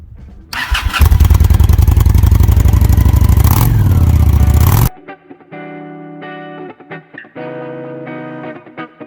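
A Honda Shadow 750 ACE motorcycle starts and roars loudly and steadily up close for several seconds, then cuts off, leaving a quieter stretch of scattered tonal sounds.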